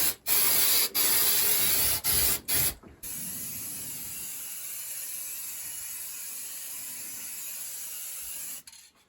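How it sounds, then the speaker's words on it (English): Paint hisses from a spray can inside a bowhunting blind, with several short bursts followed by one long continuous spray as the interior is coated black. "My able assistant is starting the spray painting process."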